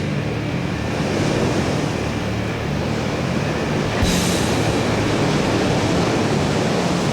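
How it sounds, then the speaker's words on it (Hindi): Strong waves on water in a Hindi-dubbed animated episode make a loud, continuous rushing roar of surf that stays steady throughout, with a brief brighter splash partway through and no talk. "लहरें काफी तेज हैं।"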